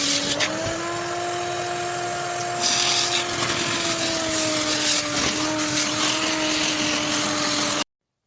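A shop vacuum drawing water out of a hot tub, a loud steady motor whine with gurgling, rushing suction noise that grows rougher partway through, then cuts off abruptly.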